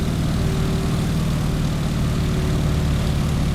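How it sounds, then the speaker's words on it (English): A propeller airplane engine in the Microsoft Flight game, with the propeller pulled back to 1900 RPM at cruise throttle, drones steadily and loudly at an unchanging pitch throughout. "I'll pull the propeller back to 1900 RPM."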